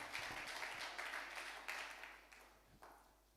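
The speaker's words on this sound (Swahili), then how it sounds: "Piga Yesu makofi hata kama hutaki." A church congregation applauding during a prophet's sermon at a ministry anniversary celebration, steady clapping that swells in several waves and fades, filling the room without speech.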